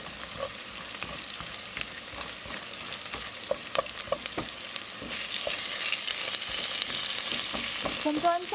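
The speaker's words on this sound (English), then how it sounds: "Just put peanuts on one side, let it get roasted in the oil, and the onions and then the lentil and green chili and everything on the other side." Peanuts roast in oil on one side of a pan while onions, lentils and green chili fry on the other, a continuous close sizzle dotted with crackles and scraping taps of stirring that swells louder toward the end.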